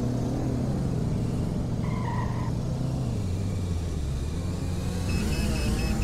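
A car engine in the video game Greenville drones continuously, shifting pitch as it revs up and eases off, with a brief tone and a short beeping signal over the engine sound.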